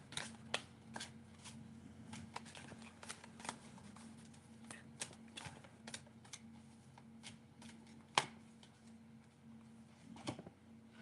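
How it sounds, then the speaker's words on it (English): Tarot cards shuffled by hand during a live reading: a steady run of crisp riffling snaps and flicks, close and fairly quiet, over a low constant hum, with no voices. "I'll shuffle both of you guys' messages so I don't have to do it again."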